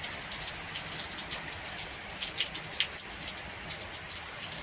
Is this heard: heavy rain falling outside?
yes